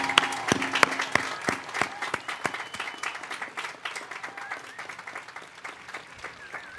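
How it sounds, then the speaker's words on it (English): A commencement crowd of family, faculty and friends at the 2019 Centralia College graduation claps for the graduates in a sustained round of applause, with sharp individual claps standing out near the front and a few voices mixing in. "please give them a round of applause"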